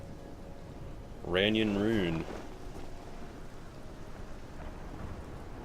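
Steady rain and storm ambience from the Morrowind game world near the Ranyon-Ruhn temple, a constant hiss that runs throughout, with someone briefly speaking over it near the start.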